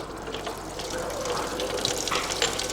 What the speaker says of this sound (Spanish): Jesús abre el grifo para recogerla y pasarla a otro bidón